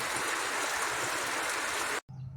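Steady rain pours down in a dense, continuous hiss for two seconds, then cuts off abruptly to quiet.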